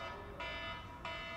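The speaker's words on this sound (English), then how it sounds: "that's my alarm telling me I don't have much time left and to sort my life out" An alarm buzzer sounds in two faint, sustained electronic bursts of steady harmonic tone, with a brief gap between them and no talking.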